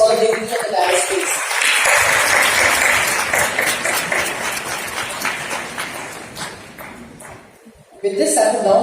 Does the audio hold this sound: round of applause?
yes